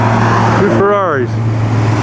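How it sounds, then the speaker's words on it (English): A pair of Ferrari cars race past during the Mille Miglia road race, their engine note rising and bending as they sweep by briefly over a steady background rumble, with a person talking nearby. "Two Ferraris."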